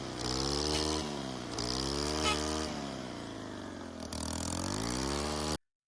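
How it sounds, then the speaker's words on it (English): A combi-system brush cutter attachment running steadily while shaving crop residue in a garden, a loud, continuous motor whine with slight pitch swells and a brief dip near the end. "We used our combi system with a brush cutter attachment to cut the crop residue."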